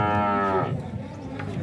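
A dairy cow at a livestock fair gives one long, loud moo that fades into low background rumble and chatter, close by.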